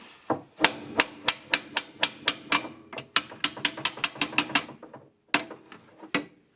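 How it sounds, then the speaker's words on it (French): A hammer taps a screw loose on the rear suspension arm of a 2006 Mercedes C200: sharp metallic strikes in quick even runs of about a dozen, a brief pause, then a few final knocks, close and clear. "Sur le marteau, tu tapes sur la vis pour la dégager."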